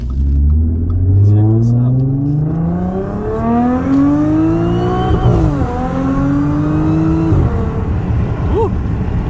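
A 2013 Audi S4 with an APR dual pulley accelerating at partial throttle, its engine note climbing steadily in pitch with a harmonious supercharged whine, loud and close from inside the car, with a brief spoken voice near the start.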